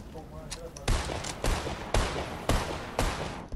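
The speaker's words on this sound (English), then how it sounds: "There's two people shooting at us, by the way." Gunfire in the Fortnite video game: five or six loud, sharp shots at roughly half-second intervals, each a hard burst with a short decay, heard close.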